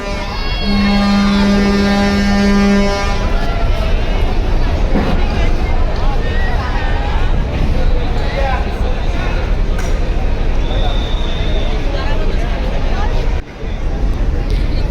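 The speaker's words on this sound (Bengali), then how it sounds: "এক গতির সাথেই অনেক দূর চলে গেল সুন্দরবন ষোলো" Passenger launch Sundarban 16 departing Barisal river port for Dhaka, a loud deep horn blast opening over engine rumble and wind, with crowd babble and someone talking throughout.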